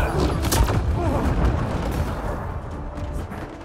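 A grenade blast and bursts of gunfire fill a Mass Effect Andromeda firefight, dense and booming with heavy low rumble at the start that slowly thins out over a few seconds.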